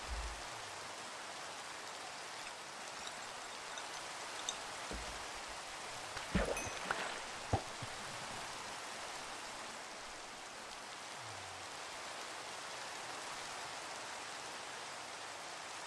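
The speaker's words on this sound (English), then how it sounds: "Come on, rain. Give me something good." Rain falling in a video game while fishing, a steady, even hiss of rain that lasts throughout, broken by a few brief soft clicks and knocks.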